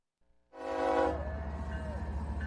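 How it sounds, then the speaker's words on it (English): Train horn from a played news clip about Trump on the train, a loud sustained blast starting after a short quiet lead-in and holding steady with rumbling rail noise beneath. "So, Trump's on the train."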